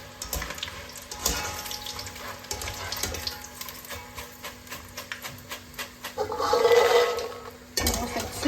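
Chak-chak dough made with two eggs sizzling and bubbling in hot oil, a steady crackle with a brief louder watery splash of added dough near the end, close by with no voices.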